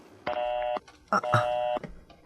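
Telephone keypad dialing tones from a landline phone, several steady beeping tones in quick succession with short gaps, heard close and clear with faint background talk nearby.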